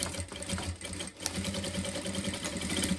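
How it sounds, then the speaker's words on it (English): A sewing machine runs steadily while it stitches a half-inch seam on a rifle barrel dust cover, a close, continuous mechanical whir and rapid needle clatter with a brief slowdown partway through. "And sew it in. I'm doing a 1/2 inch. 1/2 inch seam allowance."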